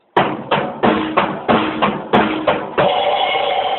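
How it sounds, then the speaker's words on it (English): A drum beat with regular punchy hits roughly every third of a second, a snare cracking on the backbeat, ending in a sustained ringing wash. "it will sound like this when I do it with a snare"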